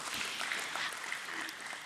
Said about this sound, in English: let's have a huge round of applause for this bumper listing of Tatva Chintan Pharma Chem Limited.